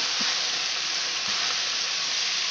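Cauliflower stems frying in a pan for a Bengali dish, giving a steady broadband sizzle that runs unbroken throughout, close and moderately loud, with two faint low knocks of stirring and no talking.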